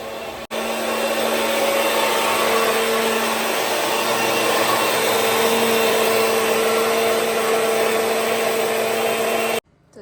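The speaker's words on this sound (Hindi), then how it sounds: "मिक्सी चल गई" A mixer grinder whirs loudly and steadily for several seconds, a continuous motor drone with a high whine, then cuts off abruptly.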